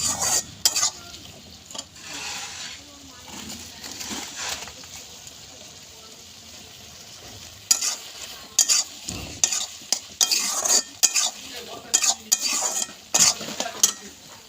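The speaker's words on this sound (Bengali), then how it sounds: "এভাবে নেড়ে চেড়ে নেবো, এভাবে নাড়তে থাকবো।" Taro leaf dal stirred in a pan, steady scraping of a spoon against the pan with a faint sizzle, then sharper, rhythmic clanking strokes close by, with little talk.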